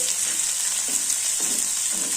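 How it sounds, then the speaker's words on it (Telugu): Green chilies fry in hot tempering oil with a constant bright crackling sizzle, close up, marked by a few soft stirring scrapes and no voices. "పోపు వేగినాక పచ్చిమిరపకాయలు వేయించుకోవాలి"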